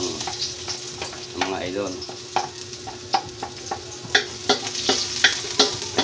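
Garlic crackles and spits in hot oil in a wok, with frequent sharp popping bursts and scraping stirs growing busier toward the end; a voice speaks briefly.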